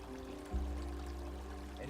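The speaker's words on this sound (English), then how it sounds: "This is the overflow of our big lake." Overflow water from a big lake in the Algarve pours and streams steadily nearby, a soft continuous rushing flow with a low rumble beneath, faint and unbroken.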